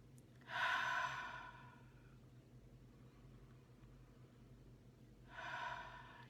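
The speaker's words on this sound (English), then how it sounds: "So a couple of nice deep breaths." Two slow, deep breaths taken close to the microphone during a calm morning guidance session, each a breathy rush lasting about a second and a half, separated by a quiet pause, with no talking.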